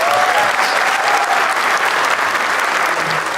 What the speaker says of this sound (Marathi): एकदा टाळ्या वाजवा या दोघांसाठी